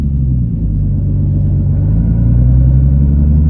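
A Nissan 350Z engine running at idle below 3,000 RPM, a loud, close, low rumble that wavers slightly throughout, with no voices.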